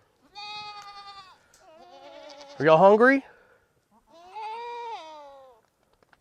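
Goats bleat loudly nearby at feeding time on a farm by a pond, a wavering harmonic cry rising in the middle, with a voice speaking briefly between the calls.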